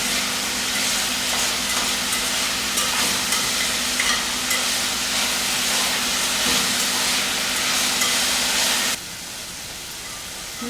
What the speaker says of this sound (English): Make sure you're stirring your onions and garlic occasionally to keep them from burning.